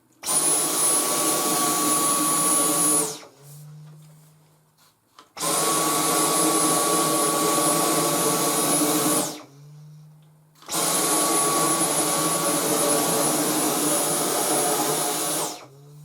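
A Dyson V10 Total Clean cordless vacuum cleaner runs in three loud, steady bursts of high whine, each lasting a few seconds, with short gaps and a faint low hum between them.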